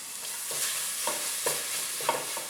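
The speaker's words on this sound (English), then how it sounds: "My pot is hot. We put in the garlic." Garlic sizzling in hot olive and coconut oil in a pot, with a steady close frying hiss and a few soft scrapes from stirring.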